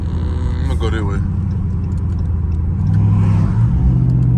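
Loud Dodge Scat Pack with catless mid-pipes, its engine droning and rumbling steadily throughout, swelling into a deeper rev toward the end, with someone talking over it.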